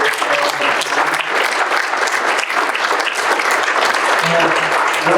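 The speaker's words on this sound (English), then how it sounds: "Give a round of applause to our amazing panel." A room full of people gives a loud round of applause for a panel at a local news and civic information policy event, thick continuous clapping with a murmur of voices and a few faint calls underneath.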